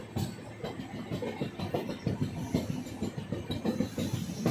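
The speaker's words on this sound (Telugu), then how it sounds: "ట్రైన్ స్టేషన్ దగ్గరలోకి వచ్చాక మాత్రం చాలా స్లో అయిపోతుంది." A double decker train on the Visakhapatnam to Tirupati route rolls toward a station and slows, its steady rumble carrying repeated clickety-clack wheel beats on the rail joints close by, with no voices.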